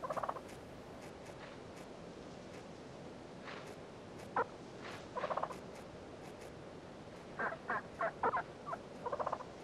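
Wild turkeys gather at corn bait beside a hidden net, giving short bursts of gobbles and clucks. The calls are scattered and then bunch together near the end, set against a quiet outdoor background.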